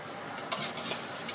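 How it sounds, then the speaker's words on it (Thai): Garlic frying in a little oil in a pan for Thai-style pink stir-fried noodles, a steady close sizzle with a brief stirring scrape partway through, no voices. "ใส่กระเทียมลงไปนะคะ ใส่น้ำมันลงไปนิดนึงค่ะ"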